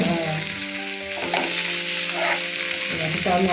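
Pieces of kingfish (surmai) sizzle steadily in oil in a pan as they are flipped, a continuous close frying hiss with a low hum and small clatters of turning.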